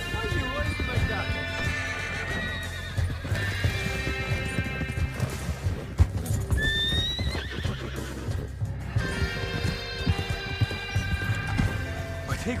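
Horses gallop with a rapid clip-clop of hooves and an occasional whinny in Red Dead Redemption 2, loud and continuous under voices talking, with game music playing throughout.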